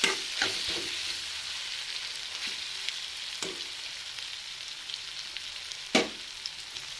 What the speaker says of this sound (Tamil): அந்த மசாலா பச்சை ஸ்மெல் போகிற அளவுக்கு ஒரு 2 to 3 minutes நல்லா வதக்கிக்கலாம்.